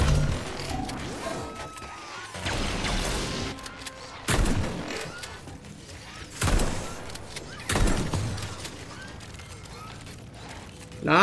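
Several sharp gunshots crack out at irregular intervals over a mechanical, rattling soundscape in the video game Atomic Heart, each followed by a short decaying tail.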